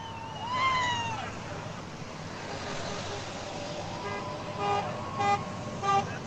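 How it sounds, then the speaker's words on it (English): Car horns honking from passing vehicles at a Portland street protest, a few short toots over steady traffic noise, the last couple of blasts louder and nearer. "There's a honk."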